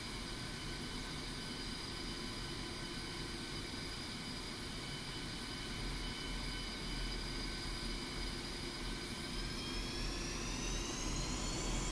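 A jet aircraft engine whines steadily while taxiing in the DCS World flight simulator, a constant loud roar with layered high tones that rise slightly toward the end, no voices.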